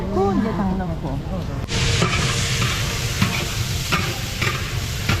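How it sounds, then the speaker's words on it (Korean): Seasoning sauce stirred and mixed at a restaurant table in Yunshuiyao, China, with steady scraping, wet stirring and a sizzling hiss from nearby cooking, loud and close, while people talk in the background. "양념장을 이렇게 만든다 여기서"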